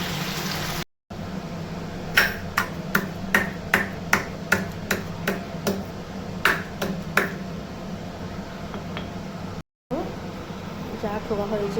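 Cardamom pods pounded in a home kitchen while making meat curry, a run of sharp regular knocks, about a dozen close strikes, over a low steady background hum.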